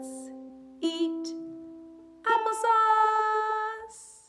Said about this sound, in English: if we're gonna pluck through all four strings